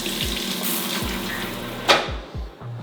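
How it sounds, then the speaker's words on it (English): Running tap water splashes steadily over strawberries in a sink, with a few low thumps and a brief sharp clatter near the end. "I'm gonna take out the strawberries and wash the strawberries."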